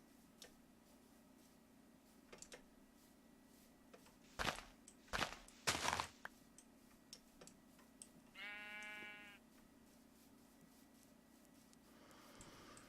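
A Minecraft sheep bleats once in a short rippling burst, surrounded by scattered ticks and clicks from game footsteps and sharp thumps over a faint steady background hum.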